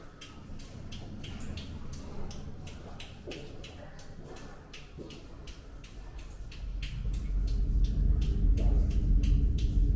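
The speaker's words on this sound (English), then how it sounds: "There's a rumbling noise. That's the sound of the train." A low, steady rumble builds and grows louder toward the end, like a train passing through a tunnel, with faint rustling and scattered clicks over it.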